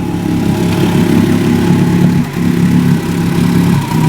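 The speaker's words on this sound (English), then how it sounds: "'63 18 horsepower Evinrude Fastwin." A 1963 Evinrude Fastwin 18 hp outboard motor runs loud and close at a steady idle, a buzzing two-stroke drone with one brief dip in the middle, with no talk over it.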